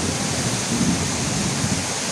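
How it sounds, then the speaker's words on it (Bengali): Heavy rain pours steadily over a village during the Jyoishtho month, forming a dense, continuous hiss that stays loud and even throughout, with no voices. "একদম নিবিড়ভাবে বৃষ্টি হচ্ছে।"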